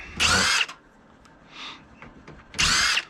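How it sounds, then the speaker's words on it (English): A power drill whirs in two loud bursts while unscrewing screws from a vintage Compaq ProLiant server, with a softer brief whine between them. "Let's just unscrew what we need to."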